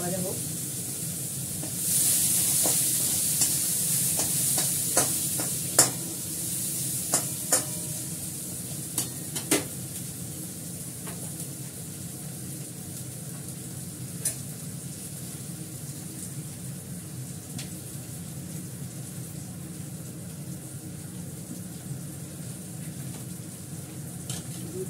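Onions sizzling in oil with dried chilli for a dal tempering: a continuous close hiss broken by repeated clinks and scrapes of a spatula stirring in the pan, which fade later as the frying settles.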